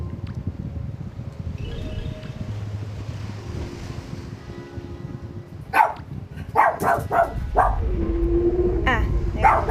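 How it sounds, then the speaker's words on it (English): A pet dog barks in several short bursts close by, over a steady low rumble and some talking. "I am sorry about my dog."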